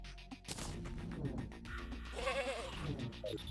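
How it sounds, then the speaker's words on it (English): Goat-like bleating from a voice changer in the video game Terraria, a short warbling cry over clattering game effects and background music. "It makes you sound like a goat."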